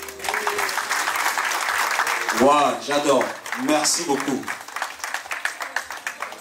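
An audience at a live evening show claps in a burst of applause that swells and fades, while a performer speaks in French over it.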